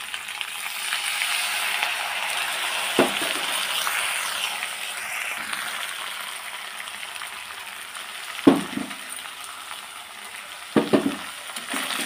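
Coconut milk poured into spicy paneer frying in oil in a pan gives a steady, moderately loud sizzle with a few brief clinks and stirring knocks, no voices heard.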